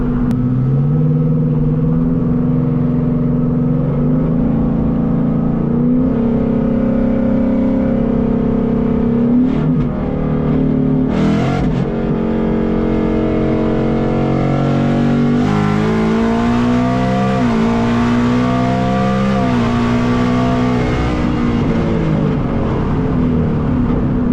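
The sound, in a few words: Whipple supercharged S650 Mustang GT accelerating hard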